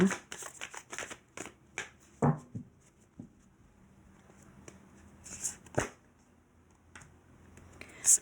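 Oracle cards are shuffled and tapped by hand in a quiet room, giving soft papery riffles and sharp flicks in an uneven rhythm that is close and fairly faint.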